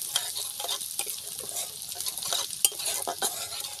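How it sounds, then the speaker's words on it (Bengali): Grated coconut with tiger prawns fries in oil, a bright hissing sizzle punctuated by repeated stirring scrapes and clatters close by. "সবগুলো বাগদা চিংড়ি ওই তেলে আমি নারকেল কোড়া দিয়ে দেব। নারকেল কোড়াটা দিয়ে একটু ভালো করে ভেজে নিতে হবে।"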